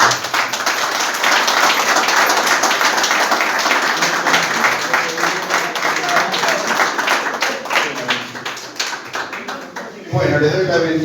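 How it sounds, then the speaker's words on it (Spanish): A conference audience claps for a priest after his lecture, dense sustained applause filling the room for about ten seconds, thinning toward the end before it breaks off abruptly into quieter room sound. "le pedimos un aplauso"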